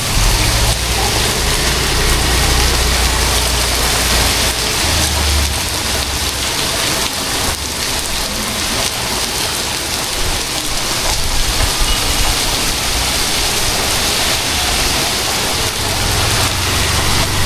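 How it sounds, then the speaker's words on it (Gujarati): Heavy rain pours down outside a shop in a constant loud hiss of rain striking surfaces, unbroken and with no voices. "ભાઈ વરસાદ માંડ્યો છે"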